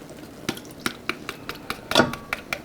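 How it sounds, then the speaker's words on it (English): Mushrooms being added to a hot cast iron pan: a series of light, evenly spaced taps and clinks of a utensil on the pan, with a brief busier scrape and soft sizzle near the end. "We're going to go ahead and add some mushrooms to one corner of the pan"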